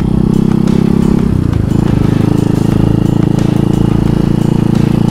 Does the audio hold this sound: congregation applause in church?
no